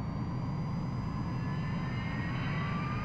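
Jet aircraft engine roaring steadily at takeoff in the video game Ace Combat 3: Electrosphere, a loud continuous low rumble with rising whine throughout.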